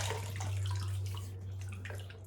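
Water runs and splashes while conditioner is rinsed off during a shave with a stainless steel single-blade safety razor, a close, soft sloshing over a steady low hum.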